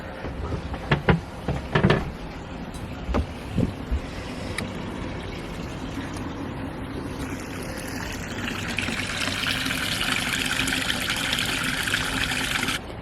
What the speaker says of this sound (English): And bilge pump is going.